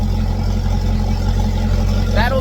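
A boat engine runs at a steady idle during an engine flush, a constant low droning hum close by, with a voice briefly speaking over it near the end.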